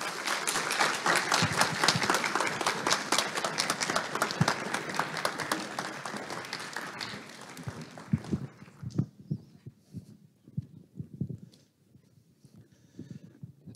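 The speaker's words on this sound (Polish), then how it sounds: "Powitajmy go oklaskami." Audience applause at a lecture, loud and dense for about eight seconds, then thinning into scattered claps that die away.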